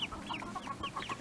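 Easter Egger chickens in a shaded homestead pen give a quiet run of soft, rapid clucks and short chirps, several birds overlapping at a moderate distance.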